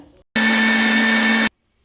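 A loud, steady electric whir of a mixer grinder blending boiled rice and raw milk runs for about a second, starting and stopping abruptly, with no talking.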